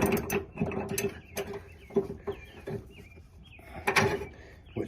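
A quick pin connector slides in and locks while a trailer hitch is fitted to an Indian motorcycle, giving a run of close metallic clicks, rattles and clunks in irregular bursts.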